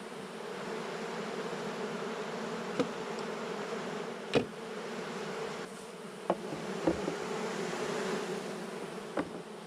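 Honey bees buzz around honey super frames being harvested, a continuous close droning hum with a few sharp knocks and clicks of handling scattered through it.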